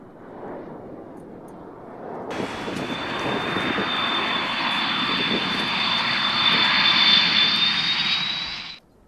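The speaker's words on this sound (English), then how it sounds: "I haven't seen anything apart from aircraft on here." An aircraft passes overhead, its engine drone rising after a couple of seconds into a steady roar with a high whine, growing louder before cutting off abruptly.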